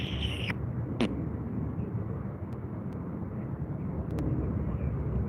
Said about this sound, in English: Currently got 2 Virgin Atlantic aircraft making their way to the runway, folks.